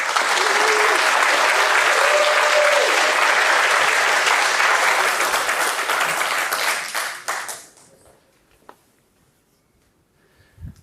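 An audience at a university lecture applauds to welcome a professor, dense sustained clapping for about seven seconds that tapers off, leaving near silence with a few faint sounds.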